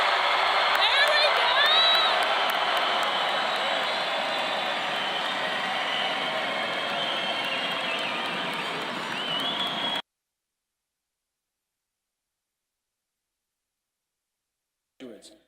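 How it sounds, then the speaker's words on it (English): A graduation audience cheers and claps in a large hall, a broad, loud wash of crowd noise and applause that slowly fades over about ten seconds, then silence, with a brief burst at the very end. "Graduates, you can clap as well, too."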